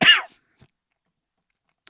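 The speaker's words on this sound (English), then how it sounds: "Sorry for coughing" A single short, loud human cough close to the microphone, followed by near silence.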